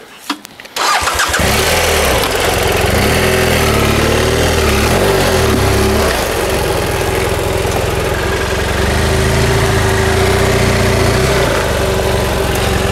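An off-road motorcycle on a trail fires up after a brief rattle, then settles into a loud, steady idle that stays close and continuous, with no voices.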